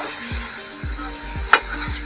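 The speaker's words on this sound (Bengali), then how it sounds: "আলুগুলো এখন একটু ভালো করে কষিয়ে নিচ্ছি।" Potatoes frying in a pan for a spinach and potato dish, a low steady sizzle broken by repeated rhythmic stirring strokes and one sharper clink of the utensil against the pan.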